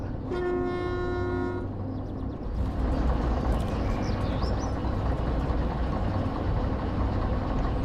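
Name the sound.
train passing in a driving video game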